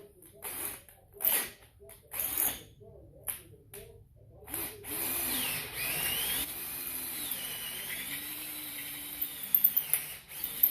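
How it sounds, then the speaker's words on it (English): A drill fitted with a 290 bit bores galleys on low speed. After some scattered knocks, a sustained motor whine begins, rising and falling in pitch as the bit bites, with faint clicks at the end. "Put the drill in low."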